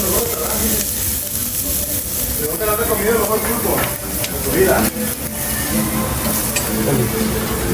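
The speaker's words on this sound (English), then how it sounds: "So this is my octopus, Serendado style, being cooked on the grill." Octopus cooked zarandeado style sizzles and hisses steadily on a restaurant grill in Las Animas, Puerto Vallarta, a close crackling bed of sound with brief sharper pops while people talk nearby.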